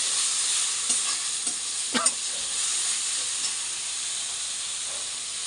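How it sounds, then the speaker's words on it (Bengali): Spice masala with meat sizzles steadily in a hot pan, a continuous bright hiss with a few soft scraping stirs and a sharper clink near the middle, no voices. "এখন মশলাটা কষানো হচ্ছে"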